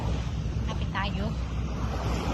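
Sea waves wash onto the sand at Cafeteria Beach in Tuen Mun, a steady close surf hiss with some wind buffeting the microphone and a brief voice in the middle.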